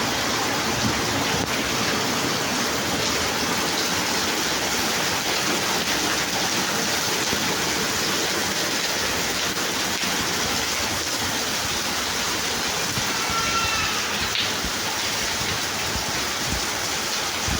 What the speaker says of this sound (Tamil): பாருங்கள் சக்கையான மழை வந்துச்சு